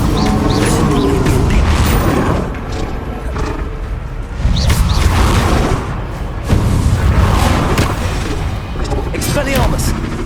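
The Bombarda spell in Hogwarts Legacy sets off a series of loud, booming blasts with rumbling, roaring bursts amid hectic combat noise, several impacts spread over ten seconds.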